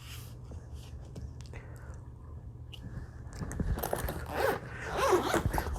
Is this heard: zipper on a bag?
yes